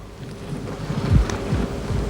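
Strong desert wind gusting against the microphone, a moderate rushing roar with low buffeting thumps that swell near the middle.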